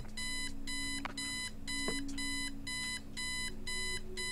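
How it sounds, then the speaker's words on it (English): Digital alarm clock ringing in the point-and-click adventure game Kathy Rain: a loud, steady run of evenly spaced electronic beep bursts, about eight in a row, with faint clicks underneath and no talk. "I set the alarm so you won't miss the funeral"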